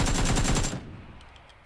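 Automatic gunfire from a weapon in PUBG rattles out in a loud rapid burst for about three quarters of a second, then cuts off into a fading echo and faint background ambience.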